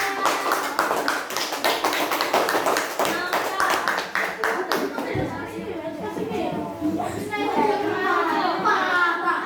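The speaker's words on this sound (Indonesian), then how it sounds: "Beri tepuk tangan buat Novel" Students in a sixth-grade classroom clap for a classmate, a burst of sharp rhythmic claps for several seconds that fades into children's chatter and a teacher's voice.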